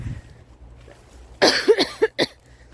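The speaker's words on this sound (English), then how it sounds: "I've got a really annoying lingering cough from this blooming COVID" A lingering cough from COVID, heard as a close, loud burst of several rough hacking coughs in quick succession after a quiet pause, outdoors at a flower allotment.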